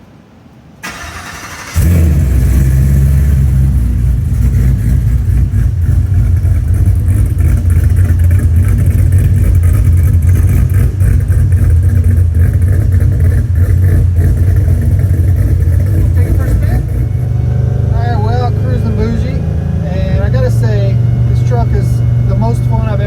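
A Chevrolet C10 truck with an LT4 engine cranks and fires up, then holds a loud, rumbling idle with occasional revs for most of the stretch, as people talk over the engine near the end.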